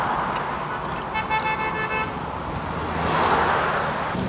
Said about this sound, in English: There is a lot of honking of the horns.